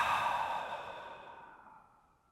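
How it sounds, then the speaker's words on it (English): A single long, audible exhale through an open mouth during a guided yoga breathwork session, an airy breathy sigh close to the microphone that gradually fades out. "Inhale through the nose. Open mouth, exhale."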